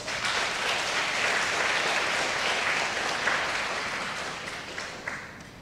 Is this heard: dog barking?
no